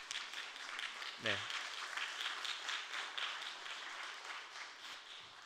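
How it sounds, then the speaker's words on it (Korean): Church congregation at a Korean Sunday service clapping in a steady, moderately loud wash, with a short spoken word near the start and talk mixed in over the applause. "박수로 한번 축하하도록 하겠습니다"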